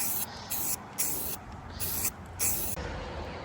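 Black spray paint hisses onto a truck in short, repeated bursts of about half a second each, close and moderately quiet, with brief gaps between passes and no talking.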